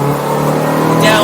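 A 1966 Austin Mini Cooper S engine hums steadily at speed around 85 mph, with a constant drone and rising pitch, a voice talking over it throughout.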